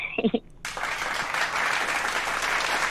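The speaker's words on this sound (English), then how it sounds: "You got the crowd cheering for you." A crowd breaks into sustained applause after a brief sung phrase, a dense wash of clapping that rises sharply and stays steady to the end.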